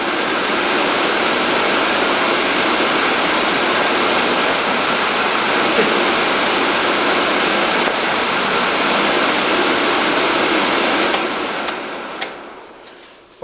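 A Faber 2740 Base X A60 cooker hood fan runs at its third speed setting, a loud, steady broadband rush of air that holds constant, then tapers off with a few small clicks near the end.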